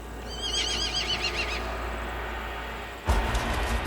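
Hutsul horses on a high mountain pass in Ukraine give a loud, wavering whinny over steady outdoor rumble, followed near the end by a burst of close hoof clopping.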